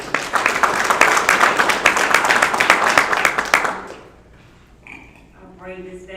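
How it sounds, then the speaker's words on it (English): Audience applause and hand clapping at a county graduation ceremony, dense and steady for about four seconds before fading into quieter room sound and a brief voice. "give her a hand clap to y'all"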